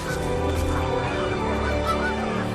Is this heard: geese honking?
yes